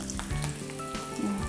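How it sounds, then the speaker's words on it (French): Frozen tempura shrimp fry in hot oil with a steady close sizzle, while tonal kitchen hum and faint clatter run underneath. "Faire frire comme il faut."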